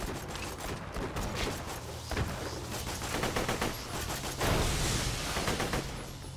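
Rapid gunfire in the shooter Borderlands 2, dense bursts of shots and mechanical clatter layered throughout, loud and continuous with heavier volleys toward the end.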